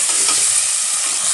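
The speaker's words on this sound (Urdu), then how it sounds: "اب اس کو ہم لال کر لیں گے پیاز کو۔" Onions sizzle steadily in hot oil in a pot while being stirred, a continuous close frying hiss for over a second with no voices.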